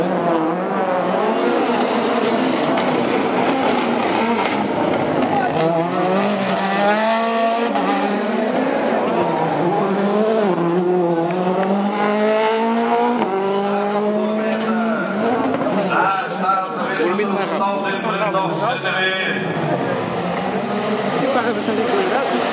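A rally car driven by Bernardo Sousa at a national rally stage roars past at speed after a big jump, its engine rising and falling through gear changes while a commentator talks excitedly over the sound.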